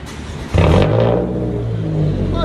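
A 2016 Scion tC with resonators, muffler and S-pipe removed for straight pipes revs hard, jumping from a rough idle into a loud, raspy roar that holds steady and close for a couple of seconds.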